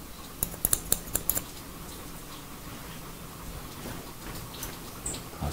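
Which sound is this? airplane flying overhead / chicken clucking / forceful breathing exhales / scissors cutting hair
scissors cutting hair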